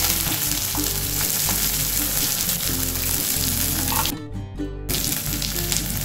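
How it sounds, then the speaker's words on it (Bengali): Shelled corn kernels frying in hot oil in a kadai, a loud, bubbling sizzle with stirring clatter, briefly dropping away for a moment before the crackle returns. "তেল গরম হয়ে গেছে, এতে আমি ছাড়ানো ভুট্টাগুলো দিয়ে দিচ্ছি"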